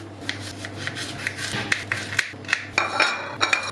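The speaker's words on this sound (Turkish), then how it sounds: "Minik minik kıyıyorum havuçlarımı." Carrots finely chopped with a knife, heard as a quick, irregular run of close, crisp taps and scraping cuts at moderate loudness, with no voices.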